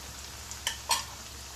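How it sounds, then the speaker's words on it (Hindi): Taro root (arbi) frying on a high flame gives a quiet, even sizzle, with two brief louder crackles or spoon taps close together. "तो अरबी हमारे फ्राई हो चुके हैं।"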